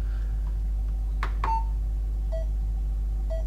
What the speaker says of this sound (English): if you wanted the beep beep tone on